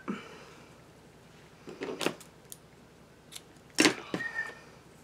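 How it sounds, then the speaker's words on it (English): Scissors snip through a piece of craft ribbon in a few short, sharp cuts with quiet pauses between, close and alone. "I will take a piece of this ribbon, cut it about as long as I want it."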